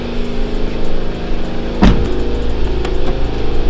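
A BMW 750i idles steadily with a low hum while a single solid thump of a door, hood or trunk being shut lands near the midpoint, followed by a fainter click.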